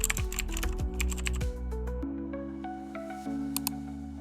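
Rapid typing on a computer keyboard into a web browser, a close, crisp run of key clicks with brief pauses, alone over a low steady hum.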